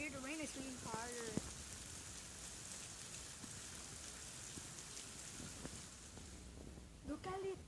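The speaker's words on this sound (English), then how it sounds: "Can you hear the rain? It's raining harder." Heavy rain pours down in a dense, steady hiss of drops hitting the ground, with voices talking over it at the start and end.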